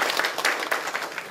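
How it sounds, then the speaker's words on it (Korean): Audience applause at a public forum on restoring an urban stream, steady dense clapping from a nearby crowd, brief and even throughout, with no speech over it. "큰 박수 부탁드리겠습니다."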